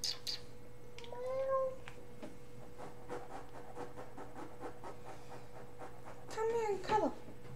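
A cat meows twice indoors, a drawn-out meow early on and another near the end, fairly clear over a quiet background hum with a person speaking softly in between.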